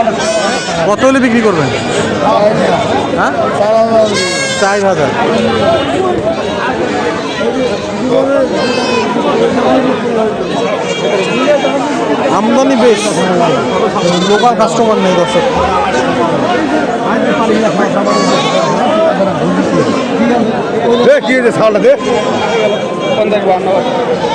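Goats bleat now and then at the Khochabari livestock market in Thakurgaon, several bleats cutting through loud, constant crowd chatter and bargaining voices.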